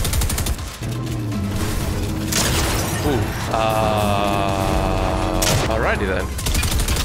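Rapid gunfire bursts and spraying weapon fire in the Fortnite video game, a player firing upward at an airborne opponent, loud and continuous under excited talk.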